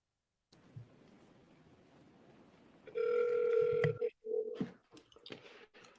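Telephone dialing out on a sales call: a quiet line hiss, then a steady dial tone that cuts off, followed by a short tone and clicks from the handset.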